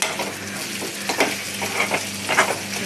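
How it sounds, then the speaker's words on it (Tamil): Garlic sautéing in a pan for garlic vattha kuzhambu, a steady close sizzle with a few sharp stirring scrapes and clinks of a utensil against the pan, no voices. "நல்லா வதங்கிட்டு இருக்கோம்"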